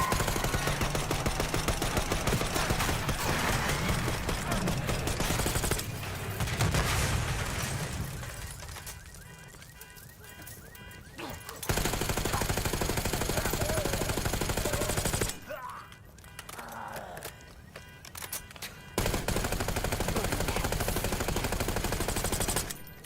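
Bursts of automatic gunfire aimed at a limousine on a city street in Black Ops 6, loud rapid volleys alternating with quieter stretches and dense game action throughout.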